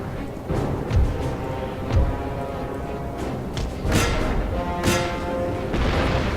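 Musket volleys from troops opening fire in the strategy game Napoleon: Total War, a series of dull booming shots and thuds at irregular intervals over a continuous battlefield roar.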